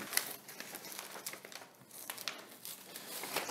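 Glued paper template being peeled off a plywood sheet, giving a continuous close crinkling and tearing rustle with small irregular bursts throughout, no voices.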